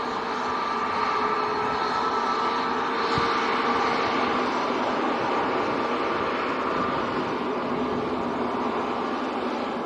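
A Ryanair Boeing 737 Max 8 jet on approach gives a steady, even engine drone with a faint whine running through it, carried on a stiff breeze and holding at a constant level without any voices.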